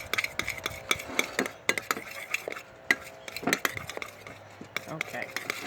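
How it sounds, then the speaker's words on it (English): Slime mixture stirred in a bowl, a close series of uneven scraping and clinking strokes of a utensil against the container, steady and fairly quiet with no talking. "you just want to stir it up really good because you have to make sure everything is mixed together"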